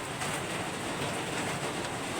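A downpour drums on a home's roof in the small hours in Dasmariñas, a steady, close hiss of dense drops throughout.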